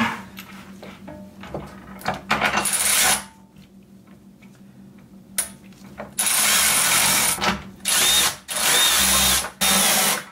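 Power tool bursts drive in bolts while installing a Teraflex HD tire carrier, with several loud whirring, ratcheting runs broken by short pauses and a quieter stretch in between.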